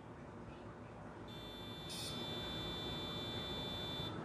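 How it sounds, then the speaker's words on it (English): Drone electronics emit an ESC calibration beep after the safety switch is pressed: a steady high electronic tone starts partway in and holds to the end, with a brief brighter chirp near the middle, over a low background hiss. "So now that beep has primed us."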